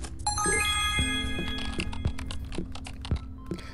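Rapid key taps and small chiming dings sound from the tap game Bitcoin Billionaire, a brisk irregular clatter of typing layered with bright bell-like tones and light thunks.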